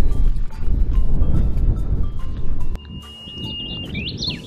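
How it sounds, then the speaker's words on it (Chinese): Birds chirp and sing on a mountainside while walking down, high thin calls over rustling footsteps and movement noise, becoming clearer and more melodic once the rustling drops away. "听这边的小鸟叫的很好听啊"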